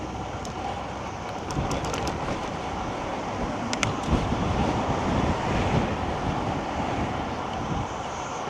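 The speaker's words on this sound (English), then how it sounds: "Quite windy today, wow. Even I'm getting blown around a little bit." Strong wind roars over a microphone while cycling through Chicago on a commute, a steady broadband rush with gusts swelling and buffeting throughout, no talking.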